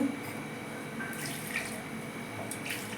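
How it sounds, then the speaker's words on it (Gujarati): Cold water pours steadily from a tap into a vessel while making sugarcane juice, a soft continuous splashing with a few light clinks, fairly quiet and close. "પાછું એકવાર જરાક થોડુંક ઠંડુ પાણી નાખી"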